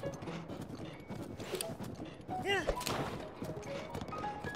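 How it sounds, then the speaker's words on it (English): Horse hooves clip-clop steadily in Zelda: Breath of the Wild, with game sound effects layered over a busy background and a rider wearing a Lionel mask. "I'm on a horse with a Lionel mask."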